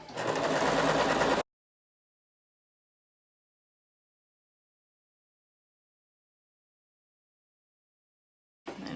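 A sewing machine runs steadily while stitching a ruffle top, a short continuous whirring burst, then silence, before the motor starts up again at the very end.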